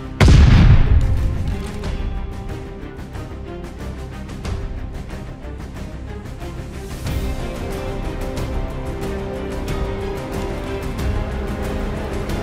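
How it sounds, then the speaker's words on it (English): A stun grenade in Call of Duty Vanguard multiplayer Team Deathmatch goes off with a loud opening boom, then gives way to a dense, sustained clatter of distant gunfire and rumbling explosions. "Throwing stun grenade!"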